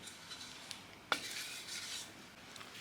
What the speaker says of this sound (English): So I stir gently.